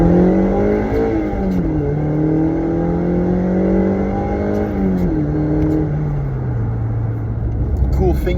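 A Mazda MX-5 Miata NC (2005–2015), non-turbo with a short-geared five-speed, pulls away under steady close engine drone, pitch climbing through the gears with shift dips, loud and continuous throughout.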